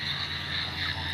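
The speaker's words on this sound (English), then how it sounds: "Very rich with the slender tree frogs around here because of the type of reed" Slender tree frogs call in a dense, steady chorus among reeds at a lake's edge, a continuous layered trilling with no voices.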